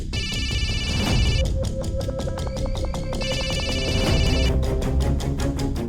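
A telephone rings unanswered, its bright electronic trill repeating in bursts with short pauses, loud and close, over a low musical background.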